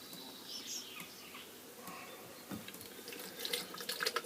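Liquid runs from a pipe into a jug during a grain brewing session, a quiet, continuous trickle and splash that swells slightly toward the end.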